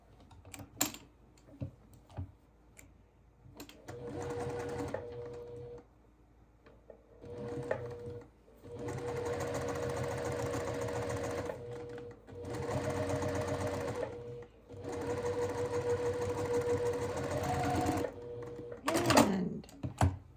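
Sewing a begonia quilt block, a machine whirs in several start-stop runs of rapid stitching, with faint clicks and handling noises between bursts and a brief murmured voice near the end.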